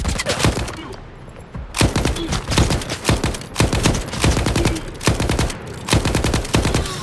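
Rapid machine gun fire in S.T.A.L.K.E.R. 2, in repeated bursts, loud and close, with short pauses between each volley of sharp shots.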